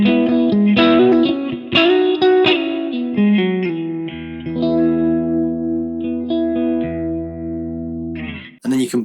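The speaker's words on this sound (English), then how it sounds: "So halfway is kind of the sweet spot if you want those classic phaser tones" An electric guitar plays through an All-Pedal Microdose phaser with the mix set halfway, giving a classic sweeping phaser tone. A run of plucked notes and chords settles into a long sustained note, loud and close, with no talking.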